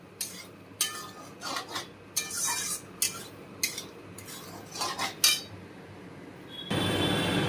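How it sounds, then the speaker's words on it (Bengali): Paneer stirred and sautéed in a pan, with a series of loud, close metallic scrapes and clinks from the spatula at uneven intervals, ending in a steady sizzle. "আবার ভালো করে আমি কষাচ্ছি।"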